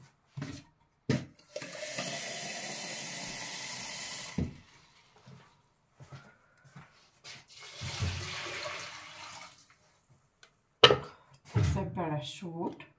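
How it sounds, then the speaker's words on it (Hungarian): Water poured from a tap into a pot of onions for lentil soup in a home kitchen, a steady splashing rush lasting a few seconds, then a second shorter pour, with clinks and brief clatter around it. "Felöntöm vízzel."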